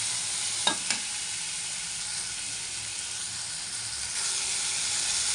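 Tomatoes fry in a pan for rava upma, giving a steady loud sizzle and hiss with a few sharp scraping stirs near the start and another stir later on.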